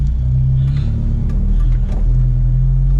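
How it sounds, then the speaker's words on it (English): A truck engine idling after a brake caliper repair, a steady low rumble with a throaty, even tone, close and loud with no talking. "the truck is idling better"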